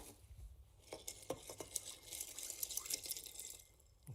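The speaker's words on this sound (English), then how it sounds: "now we stir this with ice." Ice clinks and rattles as a rum cocktail is stirred in a glass, making faint, irregular close-up tinkles and taps with no talk over them.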